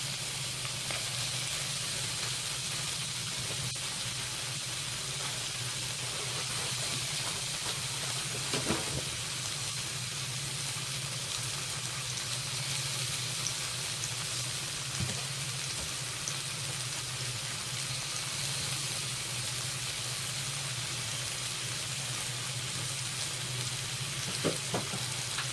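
Tofu and garlic frying in a pan, a continuous close sizzle and hiss with occasional soft stirring scrapes, steady throughout without talk.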